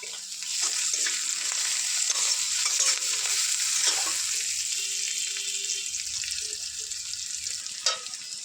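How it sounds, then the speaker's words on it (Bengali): Ginger and garlic paste fries with onions in hot oil, producing a steady close sizzle with irregular stirring scrapes, a light clink near the end and no talking. "এবারে আদা রসুন দেবো।"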